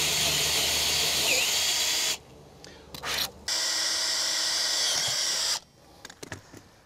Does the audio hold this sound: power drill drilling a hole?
yes